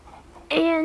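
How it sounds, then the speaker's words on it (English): A random bird call in the Happy Wheels video game cuts in suddenly after a quiet moment, a loud, sustained, tonal squawk that holds steady to the end. "And random bird."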